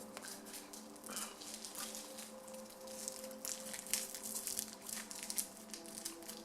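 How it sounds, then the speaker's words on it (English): Crinkly plastic wrapper rustling and crackling in close, uneven bursts, with a steady low hum underneath and no talking. "That's me unraveling a cough drop right now."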